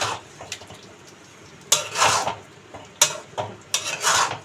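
Cashew paste is stirred into chicken gravy in a pan, making close, wet scraping strokes that come in short bursts with quieter pauses between them.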